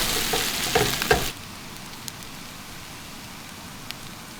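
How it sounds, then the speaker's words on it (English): Large batch of fried rice sizzling in a pan with sesame oil and soy sauce, a loud hissing crackle for about a second before dropping to a faint background hiss with occasional small pops. "This is a huge amount of fried rice. Of course, I'm not forgetting the soy sauce."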